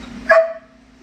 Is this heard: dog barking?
yes